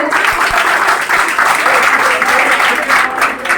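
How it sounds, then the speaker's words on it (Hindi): Audience clapping for a student topper at a gathering of CTET-qualified students in Begusarai, a steady dense round of applause filling the whole stretch at close range. "फिर से इनके लिए ताली बजाइए भाई"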